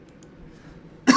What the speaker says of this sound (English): I really apologize about my cough.